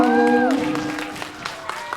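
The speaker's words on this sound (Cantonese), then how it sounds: "佢哋嘅掌聲就送到啦" Applause and crowd noise from about 300 fans at a live concert rise as a sung note fades out, a dense wash of clapping with a few sharper claps standing out.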